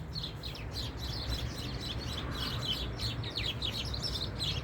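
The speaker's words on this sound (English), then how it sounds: "And obviously all the sparrows are safe." Sparrows chirp in a dense, continuous chatter of short high calls, heard at middle distance over steady wind or background rumble, with no voices.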